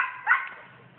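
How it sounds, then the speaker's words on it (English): A dog barks at goats on a small homestead, one short, faint, distant yelp-like bark that fades out quickly. "And you hear Molly dog out there"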